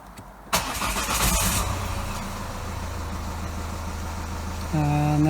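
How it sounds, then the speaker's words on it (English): A Ford Focus Mk3 car engine cranks and fires up after a battery replacement, then settles into a steady idle, with a rise in revs near the end; close and fairly loud. "So as you saw, started the car"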